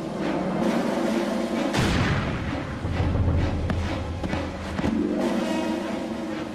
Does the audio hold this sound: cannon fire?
yes